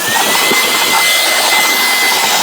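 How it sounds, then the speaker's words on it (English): A small handheld air blower bought from Walmart runs close by in a home, giving a loud, steady whooshing roar with a thin high whine that holds level throughout without pause. "I'm going to be showing you tools like this little blower here. This is from Walmart."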